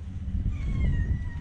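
A faint, drawn-out cat meow rises over a low rumbling background, brief and somewhat distant.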